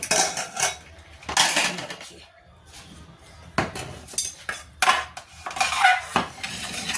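Steel utensils clink and scrape against dishes as khichdi made with black urad dal and rice is served, bursts of clatter coming in irregular clusters with quieter gaps between.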